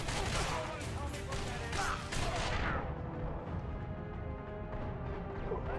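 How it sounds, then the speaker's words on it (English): Video game gunfire directed at the player during a spooky-game speedrun, a dense, busy barrage of shots and crashes that thins out midway while a voice talks over it. "Someone's shooting at me."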